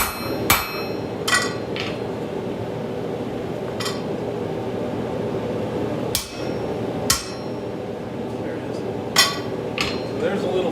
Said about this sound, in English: I'm going to get a bigger hammer so I can drive this through.